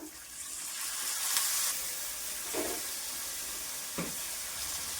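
Ground spices, turmeric, Kashmiri red chilli, cumin and garam masala, sizzling in a pan just after a splash of water, a steady close hiss with a few soft stirring scrapes.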